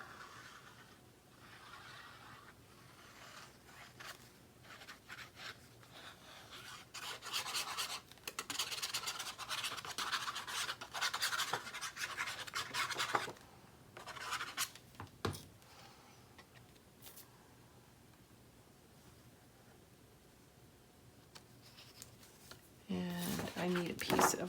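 Paper trim rubbed and pressed down by hand in papercraft, close soft scratching and rubbing strokes in bursts, with a voice talking briefly at the end.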